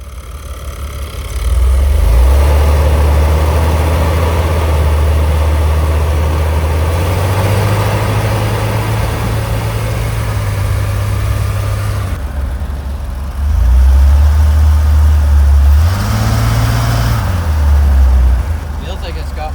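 Vehicle engine idling while it is tuned, a loud low rumble that swells into two longer revs with brief drops between them, with someone talking quietly over it.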